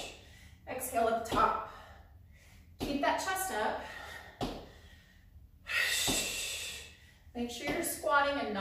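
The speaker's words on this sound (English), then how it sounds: "Give me that exhale at the top." Sharp, forceful breaths puff out in bursts during squat jumps in a home workout, interleaved with talk and background breathing, fairly close and moderately loud.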